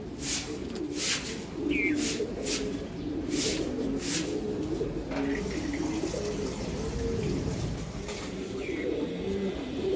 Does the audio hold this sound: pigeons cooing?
yes